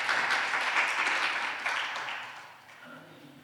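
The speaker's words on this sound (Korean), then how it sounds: "박수 부탁드리겠습니다." Conference hall audience at an international safe cities annual convention applauds a presenter stepping up to the podium, clapping strong at first then thinning and fading out over a few seconds.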